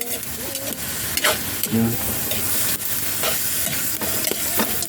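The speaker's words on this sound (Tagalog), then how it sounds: "Haluin po natin ang bahagya. Sasangkutsahin po natin siya ng maayos" Pieces of native chicken sautéed and stirred in a hot pan for tinola, a continuous loud sizzle with repeated scraping strokes of a ladle, close up, with a brief spoken word in the middle.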